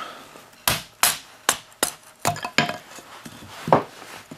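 A Condor Bushlore knife with a Scandi grind is batoned to split and quarter a piece of wood, giving about eight sharp, loud, close strikes spaced irregularly over roughly four seconds.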